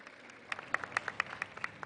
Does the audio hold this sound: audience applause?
yes